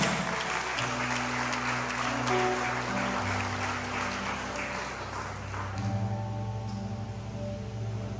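Church congregation applauding during a sermon, steady moderate clapping under sustained organ or keyboard chords, with no speech.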